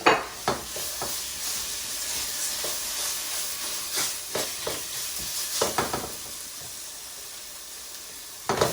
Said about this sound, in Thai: สมุนไพรนะคะลงไปคั่วให้หอมรวมกันนะคะทุกคน